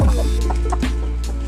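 Chickens cluck steadily up close, a continuous dense stream of fowl calls that stays loud for the whole short stretch.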